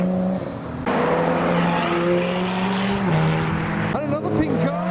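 A modified pink car, a Nissan S14, drives away from a car show, its engine revving loudly and then dropping in pitch as it pulls off, with a few brief tire and passing sounds near the end.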